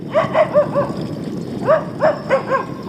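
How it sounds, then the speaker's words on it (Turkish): Dogs bark excitedly in quick bursts of high yips on a forest walk in Kerpe, Turkey, two clusters of rapid barks close by with a short pause between. "Köpekler yoldaşı görünce coştu yine."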